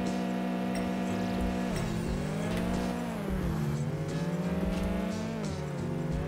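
A Chevrolet Camaro engine in the Apex Racer 2024 racing game revs hard and steadily, its pitch dropping and climbing again through gear changes, loud and continuous with no talking.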